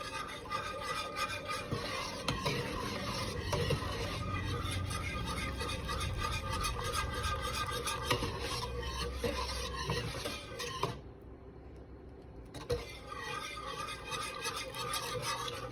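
Whisk scraping and stirring through a thick mac and cheese sauce as shredded cheese melts in, a steady rasping, sloshing rhythm close up, with a brief pause near the end before stirring resumes.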